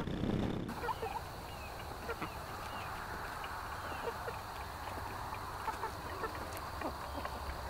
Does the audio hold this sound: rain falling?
no